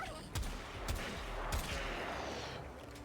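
Gunfire in the game Warframe: several sharp, separate shots ring out about half a second apart at moderate distance, each with a thudding low tail, over a steady background rumble.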